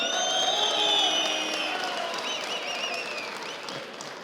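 Crowd applause at a tractor auction at a trade fair in Konya, moderate clapping mixed with whistles and cheering, loud at first and easing over a few seconds.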